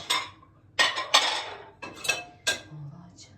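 Dirty dishes and plates clinking in a home kitchen, a series of separate sharp clatters and ceramic knocks at irregular intervals, close and moderately loud.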